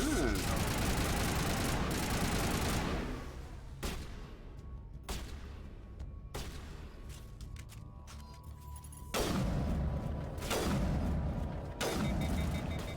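Turret gunfire in the video game Mass Effect Legendary Edition: loud, dense volleys of rapid shots that open the scene, fall back to scattered single cracks and booms, then surge again in heavy bursts, with voices talking over the fighting.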